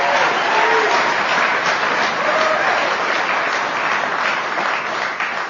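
Sustained applause from a large audience at an Alcoholics Anonymous conference in Billings, Montana, dense and loud throughout, easing slightly near the end.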